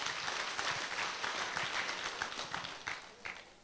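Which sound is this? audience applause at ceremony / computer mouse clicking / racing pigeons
audience applause at ceremony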